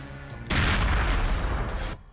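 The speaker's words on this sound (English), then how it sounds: "that explosion has caused the Air Force One to crash" A heavy explosion booms in Perfect Dark on board Air Force One, bursting in suddenly after a quieter hum and roaring loud and dense for about a second and a half before cutting off sharply.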